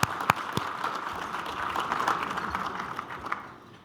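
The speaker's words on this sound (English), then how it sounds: "Give them a round of applause." Fairly quiet round of audience clapping at a business outlook luncheon, sounding from a distance, with a few sharper claps at the start and a gradual fade at the close.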